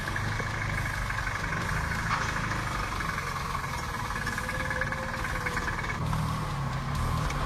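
A Casalini Twist microcar's small engine runs steadily at close range, its drone shifting in pitch as the revs change while the car turns onto a narrow path; no talking.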